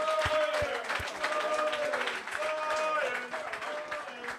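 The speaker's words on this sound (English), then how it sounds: "Give them a round of applause." Audience applause at a London Welsh Rugby Club fan zone event for a Lions first Test preview, steady dense clapping that carries on throughout, with voices faintly mixed into the crowd noise.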